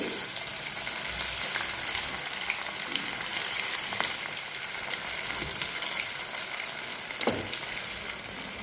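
Flattened patties of fresh peas and poha coated in bread crumbs fry in oil over a low flame, a steady close hiss with small pops and crackles throughout, no talking.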